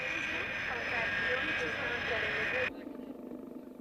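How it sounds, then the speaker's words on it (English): A yellow Boeing 707 freighter taxis on the tarmac at Auckland International Airport, a loud steady jet whine and roar that suddenly drops away to a lower rumble. "A yellow Boeing 707 freighter lumbers to a parking space on the tarmac."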